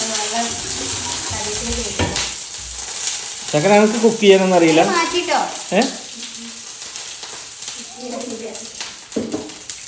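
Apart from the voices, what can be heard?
fish frying and popping in oil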